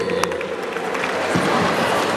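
Applause and crowd noise from an audience at a product promotion event, a steady mid-level wash of clapping with some cheering and voices mixed in throughout.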